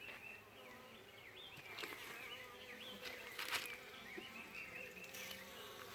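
A dense, steady buzz of many honeybees droning close by at an open hive during an inspection, with individual insects flying past and whining louder for a moment.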